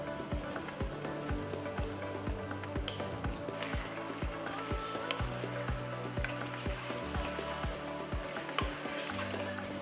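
Marinated vegetables sizzle in ghee and oil in a pot, a continuous soft frying hiss broken by repeated clinks and scrapes of stirring, fairly quiet and without talk.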